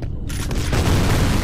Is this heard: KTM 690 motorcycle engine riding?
no